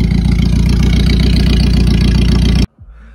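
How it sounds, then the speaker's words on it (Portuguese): A lifted off-road Fiat Uno engine idles loudly through an exhaust diffuser, giving a steady, close, throbbing rumble that cuts off abruptly near the end. "o difusor de escapamento."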